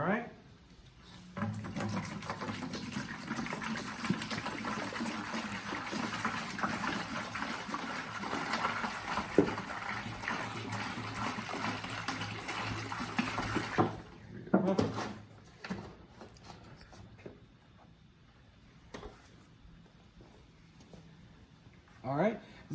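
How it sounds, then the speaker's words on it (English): Water pours from a bucket into poultry drinker cups, a steady gushing splash from about 1 to 14 seconds, then stops, leaving faint clicks and small handling noises. "Water's coming out faster than the other drinkers."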